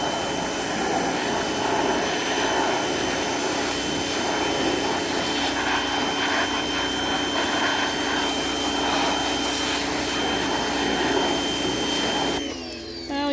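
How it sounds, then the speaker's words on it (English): A power washer spraying out a Mercury 50 hp outboard motor, a loud constant high-pressure hiss and pump whine holding steady before cutting off near the end. "let me get this thing power washed out. The good old power washer"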